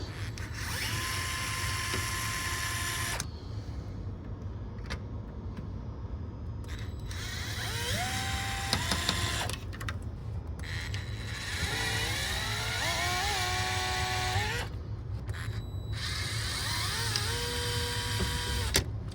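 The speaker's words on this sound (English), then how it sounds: "let's just try unscrewing it and see how it comes off." Bursts of whirring power-driver noise while unscrewing a metal bracket on a Stern pinball machine, several start-stop runs with rising and falling motor pitch, close and fairly loud, no talk.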